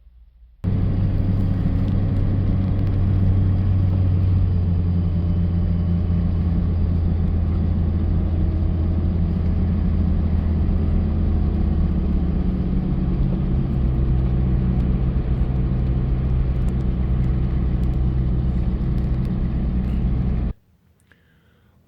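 A car's steady interior road rumble holds for around twenty seconds on the drive back to a shop, a low, even engine and tyre drone with no voices, ending abruptly.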